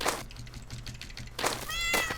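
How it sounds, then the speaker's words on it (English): A cat meow sound effect plays in the Bitsy video game: a few short synthetic meows, one at the start and more in the second half, close and clear with no talking. "You can hear the cat."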